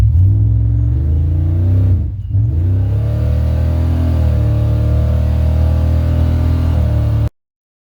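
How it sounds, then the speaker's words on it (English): A 1990 Chevrolet K2500 pickup with a 4L80E transmission roars loudly through a hard 0-to-60 run, its engine note dipping briefly at a shift near two seconds before climbing again in a steady, strong rumble. "I'm going to go ahead and try to do a 0 to 60 real quick. Try not to roast the tires off too bad."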